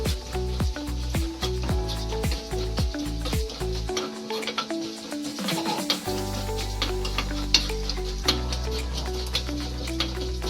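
Urad dal frying in a pan sizzles steadily with stirring clinks and scrapes, loud and near, with a short louder hiss partway through and a faint hum of steady tones behind.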